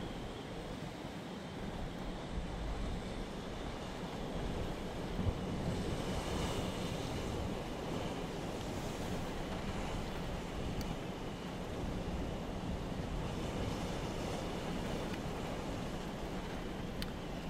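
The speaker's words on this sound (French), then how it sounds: "Une vague là." Storm waves from Storm Jana crash against the rocky coast at Cap Couronne, Martigues, under steady heavy wind buffeting the microphone, a continuous loud roar of surf and gusts with no voices.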